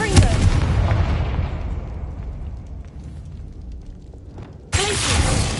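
Confringo fire spell blast in the Hogwarts Legacy video game, a heavy booming explosion that decays over several seconds, then a second sharp burst of impact at the end.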